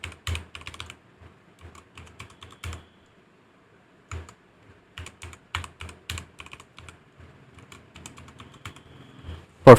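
Someone types a password on a computer keyboard for a Splunk forwarder admin account, with close, crisp key clicks in quick irregular bursts separated by brief pauses.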